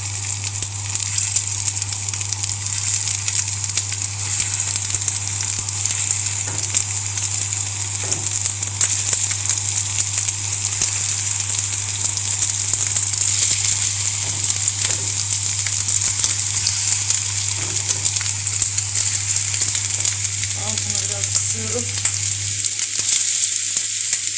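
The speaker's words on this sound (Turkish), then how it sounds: "Isınmış olan yağımın içerisine köftelerimi bırakıyorum." Meatballs frying in heated oil in a wide pan, a loud continuous sizzle throughout with faint stirring and crackling, no talk.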